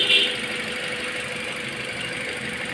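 A Toyota Altis engine with a cooling system fault idles close up, giving a steady, dense mechanical drone with a faint rattle and no talking.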